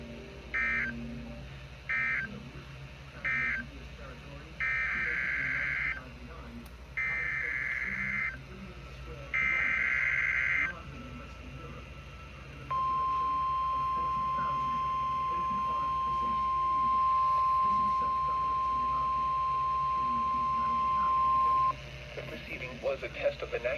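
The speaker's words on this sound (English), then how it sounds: "Was a test of the National Weather Service warning alarm tone." A NOAA weather radio broadcasts the National Weather Service warning alarm tone as a loud, steady continuous tone lasting about nine seconds, following a string of short data-burst bleeps, with faint background hiss and no talk.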